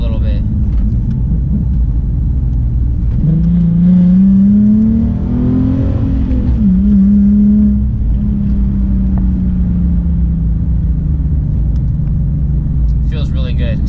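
A Nissan 370Z with the sports package accelerates hard, its engine note climbing, dipping and climbing again over a loud, steady rumble from close by.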